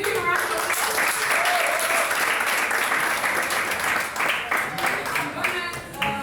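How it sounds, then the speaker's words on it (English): An audience at a tech talk event applauds steadily, with dense sustained clapping close by. Voices can be heard faintly under the applause as it tapers off. "Please give him a round of applause."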